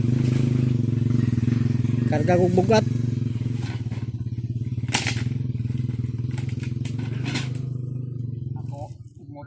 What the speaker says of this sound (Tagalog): Ito ako ng motor ko.